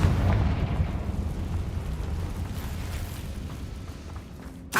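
A Confringo fire spell explodes in the Hogwarts Legacy video game, a loud booming blast that rumbles and decays over several seconds with no voices, ending in a short sharp burst.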